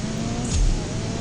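A racing car in the video game CSR2 accelerating in fifth gear with nitrous engaged, a loud sustained engine roar with a brief surge midway.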